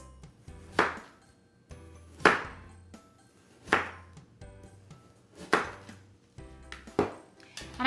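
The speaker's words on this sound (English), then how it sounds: "Now we're just going to slice our Klondike bars." A knife slices through homemade gluten- and dairy-free Klondike bars, making five distinct, evenly spaced cuts that each end in a sharp tap on the board, close and quiet between strokes.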